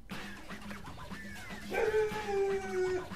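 A dog howls in the video game Deadly Premonition, a wavering, rising howl that swells midway through over a steady low rhythmic game background, fairly close and moderately loud.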